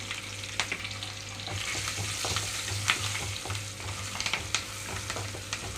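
Asafoetida and turmeric sizzle in hot oil during tempering for raw mango pulihora, with curry leaves and split chilies in the pan. A close, steady frying hiss runs under occasional spoon clicks and stirring scrapes, with no talking.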